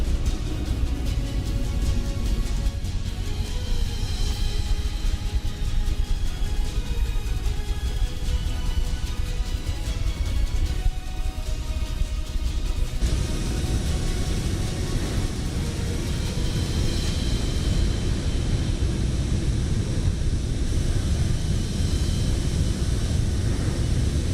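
An aircraft flyby in Microsoft Flight Simulator, a long, steady, loud roar of engine and wind noise that shifts in tone partway through, with no talking over it.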